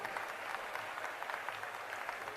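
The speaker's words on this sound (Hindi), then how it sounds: "दोनों हाथ उठा के ताली तो बजा सकते हो ना इनके लिए" An audience at a mass wedding festival breaks into sustained applause for visiting ambassadors, a dense, even wash of clapping heard at close to moderate distance with no pauses.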